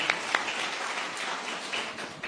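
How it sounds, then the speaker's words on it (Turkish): A village gathering in Aziziye, Burdur, breaks into a faint, even patter of crowd applause, with a few sharper individual claps near the start. "bütün Aziziyeler için kocaman bir alkış istiyorum sizlerden"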